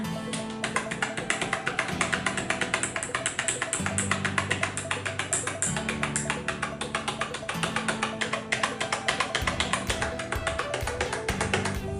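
Keys on a Nubwo NK45 mechanical keyboard pressed slowly one at a time, a steady string of close, crisp clicks with an even rhythm over a low background hum.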